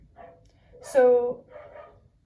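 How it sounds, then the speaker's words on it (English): A single short dog bark sounds from a distance, faint against quiet room tone, with a brief spoken word nearby. "there is a dog barking outside"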